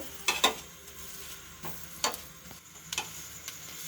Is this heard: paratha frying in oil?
yes